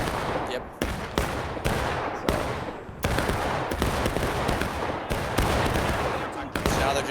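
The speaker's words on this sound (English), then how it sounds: "So now they're just shooting it out with them." Massed rifle fire in a Civil War battle game, with volleys and sharp shots cracking in quick succession, dense and loud with abrupt breaks between bursts.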